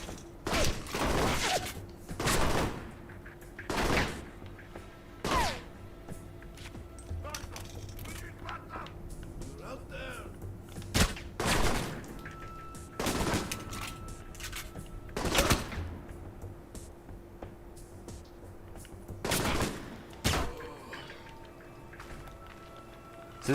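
Pistol gunfire in the video game Alpha Protocol, sharp single shots spaced a few seconds apart over a quiet game backdrop, with someone talking softly between them.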